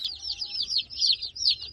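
A flock of Red Ranger and Buff Orpington chickens, roosters among them, gives a close run of repeated high, warbling calls in quick rhythmic bursts over a faint low background hum.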